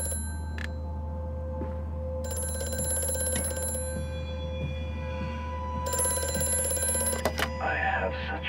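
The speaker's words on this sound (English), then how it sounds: "And the phone's ringing again." An old telephone rings in a dark factory in the horror game Amnesia: A Machine for Pigs, bright metallic bell bursts repeating in two long rings over a constant low mechanical hum, with a few scattered clanks near the end.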